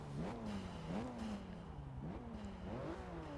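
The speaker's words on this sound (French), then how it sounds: "On a entendu le turbo." A Porsche in the Forza 6 racing game revs steadily, its engine pitch rising and falling through gear changes with a faint turbo whoosh, loud and continuous for a few seconds.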